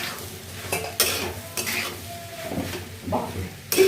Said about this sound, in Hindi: ये सब इसमें पास्ता मिला दिया, डाल दिया हूँ और उसको मिलाएंगे थोड़ा